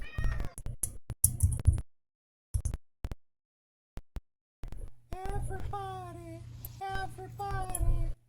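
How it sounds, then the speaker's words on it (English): Several cats meow in Honkai: Star Rail, a run of high, bending cries heard up close after scattered clicks and brief rustling sounds. "Everybody gets to see the cats."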